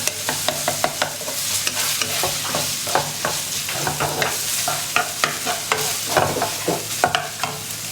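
Marinated pork is stir-fried in a pan, a steady sizzle under repeated clacks and scrapes of the spatula in an uneven stirring rhythm, close and fairly loud.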